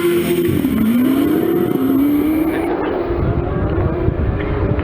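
A supercharged hill climb race car engine roars hard off the line at Gurston Down, its pitch climbing steadily as it accelerates away, loud and continuous.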